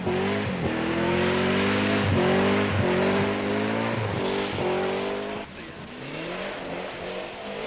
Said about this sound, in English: Per Eklund, controlling his TR7 on the ice with tremendous verve, is in second place.